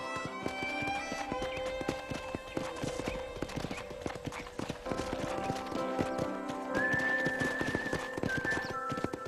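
Horses at a ranch corral in Red Dead Redemption make steady, busy clip-clop hoofbeats with an occasional whinny, all over a constant outdoor bed of sound.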